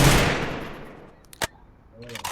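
Burst of gunfire in the Free Fire battle game: a loud broadband blast that decays over about a second, followed by a couple of sharp single shots and faint scattered clicks.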